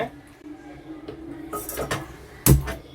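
A metal cooking pot set down with a sharp clank while making rasam, after some quieter kitchen shuffling and light handling noises.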